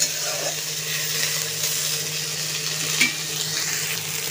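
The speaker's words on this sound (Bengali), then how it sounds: "দেখো এটা একটু ভাজা হয়ে গেছে," Fish roe frying in a pan for a curry, giving a steady close sizzle with occasional stirring scrapes and one brief clink near the end, no talking.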